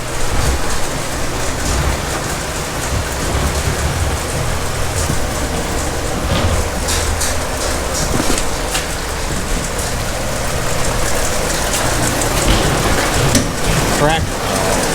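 Water sprays and splashes steadily over freshly harvested watermelons on a brush washer, a dense continuous hiss with mechanical rumble and scattered clatter, voices faintly underneath.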